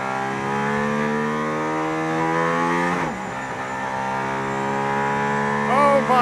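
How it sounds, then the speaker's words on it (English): Mercedes-AMG ONE hypercar accelerating hard on the Barcelona race track, heard from inside the cabin: a loud, sustained engine note climbing steadily in pitch, a brief dip around a gear change, then rising again alone without talk. "I'm sitting in the AMG ONE on a racetrack behind the Formula One safety"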